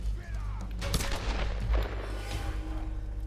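Gunfire in the Tomb Raider video game rings out as a run of sharp, heavy booming shots over a low rumbling bed, loud and close, with no speech.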